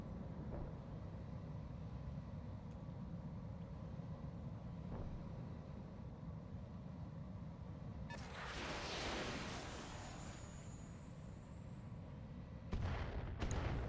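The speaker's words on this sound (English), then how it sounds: "Oh, you got mortars." Mortar fire in the BattleTech Advanced 3062 game: a faint low rumble, then a muffled blast with a rushing tail, followed later by a sharper double crack.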